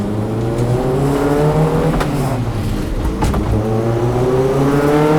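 A Toyota AE86 driving with a broken, essentially side-piped exhaust, giving a loud, steady droning engine note close by that rises and falls slightly as it shifts and revs, with no voices.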